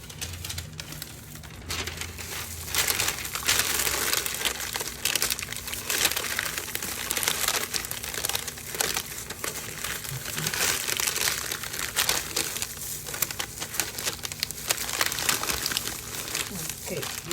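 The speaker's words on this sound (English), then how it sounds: "We'll first use parchment to wrap it before we'll now use foil paper to finish it up." Parchment paper crinkles and rustles steadily as it is wrapped around a lamb being prepared for oven roasting, close and continuous throughout.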